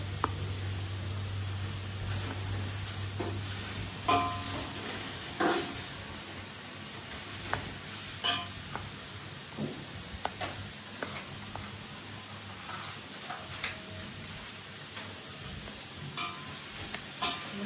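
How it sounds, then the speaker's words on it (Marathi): Onions fry for biryani in a large pot with a soft, continuous sizzle and hiss, broken by scattered scraping and clinking from stirring, all fairly quiet and close. "कांद्यालाच भाजायला जास्त वेळ झाला"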